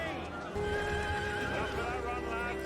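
A horse neighs in a fantasy drama scene, a drawn-out whinny over rumbling background score and commotion, fairly loud and sustained through the moment, with a voice heard briefly.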